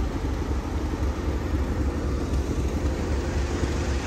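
A Class 37 diesel locomotive named Isle of Mull waits at Grosmont station on the North Yorkshire Moors Railway in a train simulator game, giving a steady, unbroken low rumble that holds at the same level throughout.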